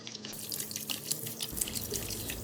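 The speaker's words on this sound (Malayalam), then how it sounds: "നല്ല കല്ലുപ്പിട്ട വെള്ളത്തിൽ ഇത് വാഷ് ചെയ്തെടുക്കാം" Mussels are washed by hand in a bowl of rock-salt water, with steady splashing, trickling and dripping close by, fairly quiet and without speech.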